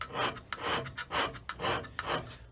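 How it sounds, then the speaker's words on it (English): Hand scraping on a metal straight edge, each stroke cutting an individual scrape mark: rhythmic rasping strokes, about five in quick succession, close and clear with no voices. "So we're doing individual scrape marks."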